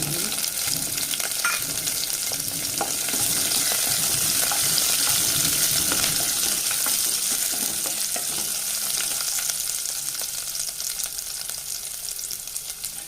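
Two green chillies frying in hot oil in a pan for a green peas curry, a dense continuous sizzle close up, loud and even, with faint stirring and no speech.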